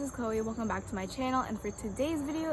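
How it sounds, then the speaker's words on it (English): A steady high chirring of crickets runs in the background while a person talks over it throughout. "and then there's crickets out."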